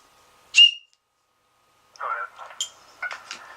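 A single sharp, high whistle blast, brief and close, followed after a pause by speech.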